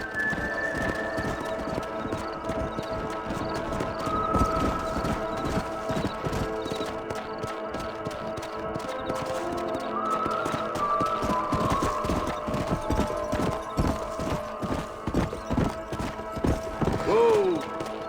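Horse hooves clip-clop steadily for the whole stretch in Red Dead Redemption on PC, with a short whinny near the end and voices talking over the hoofbeats.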